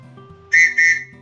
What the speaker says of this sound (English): And we've got a whistle with a lanyard.